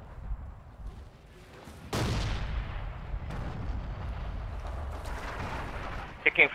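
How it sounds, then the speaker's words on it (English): Artillery fire in the multiplayer battle game Forgotten Hope 2 on a Gold Beach map, a sudden heavy blast followed by sustained rumbling, crackling impacts and distant bangs, with muffled voices underneath. "Taking fire from artillery observation point."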